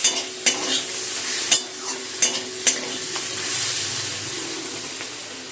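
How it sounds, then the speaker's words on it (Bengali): Fried prawn heads being stirred with water in a pan, a spoon scraping and knocking the pan in several sharp, irregular strokes over a steady sizzling hiss, close and fairly loud. "জলটা দিয়ে ভালো করে সব কিছু মিশিয়ে দিলাম"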